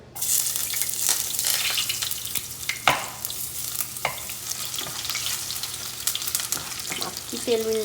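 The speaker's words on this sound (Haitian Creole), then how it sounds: "Kounye ya moi pral mettre l'ail là-dedans." Garlic frying in hot oil in a pot sends up a continuous, close crackling sizzle, with scattered stirring scrapes and pops and a sharp clink partway through. A faint metallic ring appears at the end and no one speaks.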